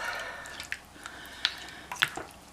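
A very mild curry is stirred in a pot, giving soft wet squelches and light clicks of the spoon against the side, quiet and irregular and close up with no talk.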